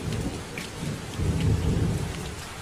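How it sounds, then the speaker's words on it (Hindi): Heavy rain pours steadily while deep thunder rumbles close by, swelling louder midway. "इतनी तेज बारिश है, ये तो घर को बहा के ले जाएगी"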